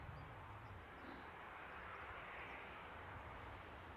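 Airplane approaching Newcastle airport near High Callerton, west of the airfield, a steady broadband engine roar held at an even level throughout, distant and unbroken.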